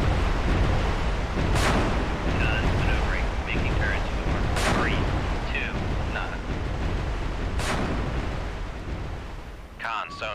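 Naval artillery fire in the Cold Waters submarine game: a series of heavy booming blasts over a dense rumbling battle background, with radio-style voices talking between the shots.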